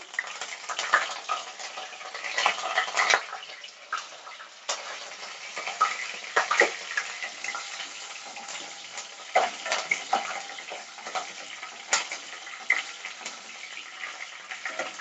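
Green chilli slices and curry leaves fry in hot oil for a tangerine pulihora, giving a steady close sizzle broken by irregular crackles and stirring clicks, with no talk.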